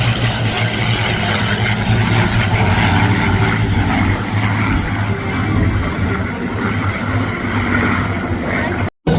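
A WWII propeller aircraft once flown as a manned "pinball" gunnery target roars loudly at an airshow, its engine drone steady and close, with a voice talking over it.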